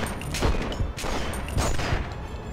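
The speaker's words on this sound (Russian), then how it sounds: "Вон он стреляет пушкой." Gunfire in The Punisher video game: loud, rapid bursts of shots in a few distinct clusters, close and harsh over a constant noisy background.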